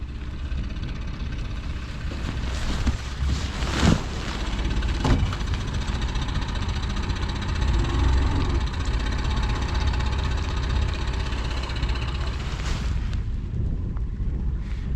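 Boat engine running steadily as the boat sets off on a Siberian river in late autumn, a constant low rumble with wind buffeting the microphone and a few brief knocks, no voices.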